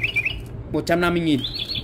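A battery-powered toy bird that doubles as a toothpick holder gives a short burst of electronic chirping, mid-loud, while someone talks over it.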